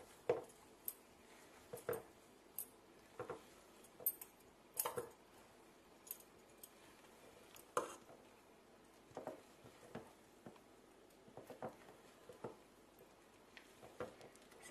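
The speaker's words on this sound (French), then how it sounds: "Et on va mélanger délicatement." A utensil gently folds whipped egg whites into melted chocolate for a mousse in a bowl, making quiet, scattered taps and soft scrapes at an irregular pace, close but faint, with no voices present.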